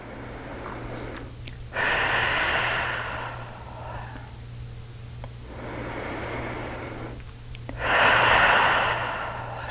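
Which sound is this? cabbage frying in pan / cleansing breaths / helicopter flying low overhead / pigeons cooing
cleansing breaths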